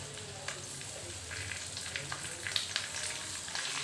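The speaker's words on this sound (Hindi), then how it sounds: "जीरा के क्रैकल हो जाने पर इसके अंदर हम ये भिंडी को डाल देंगे।" Okra is added to hot oil with crackling cumin and sizzles steadily, a dense close hiss with small pops scattered throughout.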